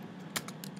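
Quick keystrokes on a computer keyboard while a command is entered in a terminal: a few close, crisp taps with one sharper key press, over a steady low background hum.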